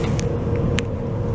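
Low, rumbling road noise from a Golf GTI driving near Lacolle and Noyan, Quebec, a steady close engine and tyre drone with a couple of brief higher clicks over it.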